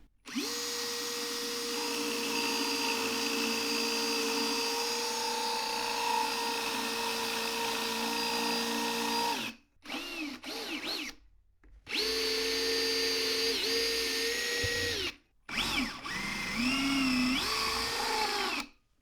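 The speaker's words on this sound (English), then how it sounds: "I get it up to full speed, get the center of my drill lined up with my other hole" A power drill whines at steady high speed for long stretches while boring a hole in wood, cutting out twice briefly before starting up again, with pitch dips as it bites into the wood.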